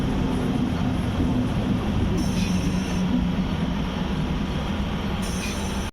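A train arriving at Kaman Road station, heard from on board as a loud, steady rumble of wheels and carriage noise that fills the whole stretch, with faint voices under it and brief high squeals near the start and end.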